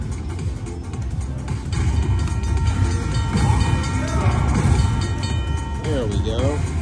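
Train sounds from a railway-themed slot video game play as a steady rolling rumble, with short horn-like tones near the end.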